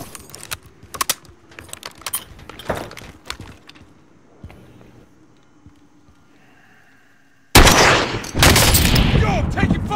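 Gunfire in the shooter Warzone: scattered sharp cracks and bursts, some distant and some close, under quiet chatter, ending in a sudden loud roar of sustained fire.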